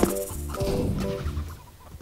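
Short bursts of hen-like clucking from chickens in CS:GO, a few rapid calls over a busy game-style background, fairly close and moderately loud.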